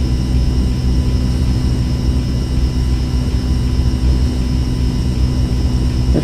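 A heavy airplane's engines in the X-Plane 11 flight simulator, a loud, steady, continuous drone with a constant tonal whine on top, unbroken throughout with no talking.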